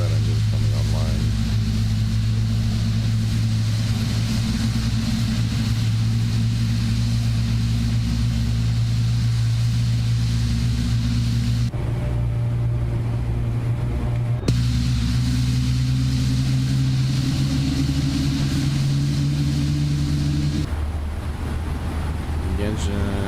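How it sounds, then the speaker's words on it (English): An aircraft engine starts up in X-Plane 12 during a pushback at Halifax airport, heard as a steady loud droning hum with low tonal whine that shifts pitch partway through, with talk over it. "That engine's coming online."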